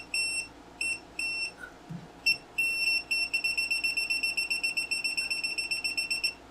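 High-pitched electronic beeping from a GVDA GD306A voltage detector, first in spaced bursts, then speeding into a rapid, regular series of short beeps as it nears an energized conductor.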